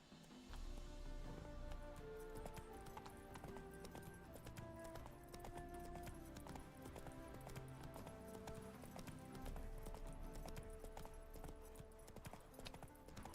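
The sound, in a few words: horse Roach galloping in The Witcher 3 video game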